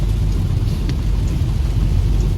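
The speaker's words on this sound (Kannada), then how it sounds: "ಜೋರು ಮಳೆ ಬರ್ತಾ ಇತ್ತು" A heavy downpour roars steadily and loudly throughout, with a deep low rumble beneath the dense wash of rain and no voices.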